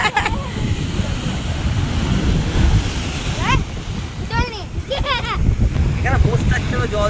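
Sea waves surge and break on the beach at Digha, a continuous roar of surf mixed with gusty wind buffeting the microphone, while people talk and call out over it throughout.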